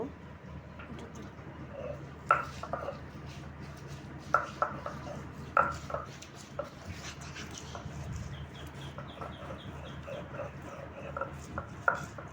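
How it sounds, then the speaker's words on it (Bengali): Jackfruit seed mash with salt worked on a flat grinding stone, giving sharp intermittent knocks and scraping strokes against a dog whimpering and barking in the background. "এখন সবগুলো একসাথে বেটে নেব"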